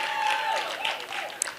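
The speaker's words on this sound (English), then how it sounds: "Please give him a big hand clap." Crowd at a modelling launch event clapping briefly for a former president in the house, a busy wash of applause overlaid with cheering and whooping voices, one sharp clap standing out near the end.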